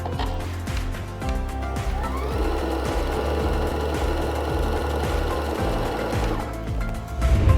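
Sewing machine stitching layered fabric for dog clothing, a close, continuous mechanical whir with rapid rhythmic needle knocking that holds steady for several seconds, no voices.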